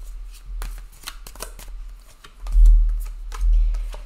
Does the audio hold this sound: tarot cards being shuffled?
yes